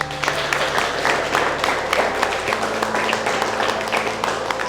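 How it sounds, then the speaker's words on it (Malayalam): An audience at a school felicitation for JEE Main 2026 Kerala toppers claps together, producing a sustained burst of applause with some voices or sound beneath it. "എല്ലാവർക്കും വേണ്ടിയിട്ട് ഒരു നല്ല കൈയടി തരാമോ?"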